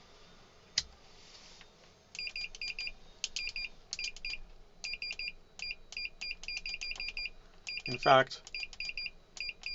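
A Fluke multimeter on continuity test gives short, repeated high beeps in quick irregular bursts as the probes touch, with probe clicks and a brief spoken phrase early on.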